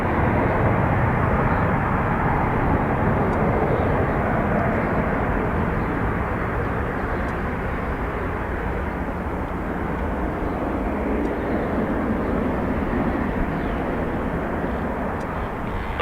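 Airliners departing Dublin Airport, a loud continuous jet engine roar close by that holds steady throughout with a broad rumbling low end and hiss.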